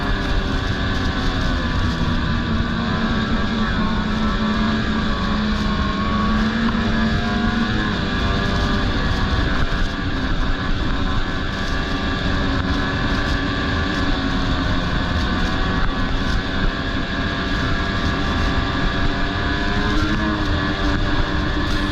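Snowmobiles run along a groomed trail near Old Forge with one rider following a group. A loud, continuous engine drone with a steady rumble and a whining tone rises and falls slightly with speed and continues without any talking.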